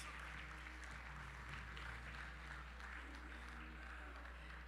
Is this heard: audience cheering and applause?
yes